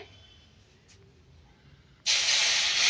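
Pitha batter poured into an oiled pan, a quiet lull broken by an abrupt, loud, steady sizzle that holds strong to the end.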